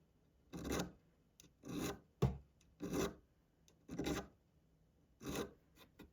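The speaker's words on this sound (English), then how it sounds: "I've got a barrette file, And I'm just going to go ahead and file that flat there, push it down, file it flat there" Metal filed flat with a barrette file while building hinges: six rasping push strokes in a steady rhythm, close and clear, alone without talk.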